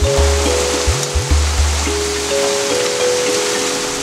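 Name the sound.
heavy rain falling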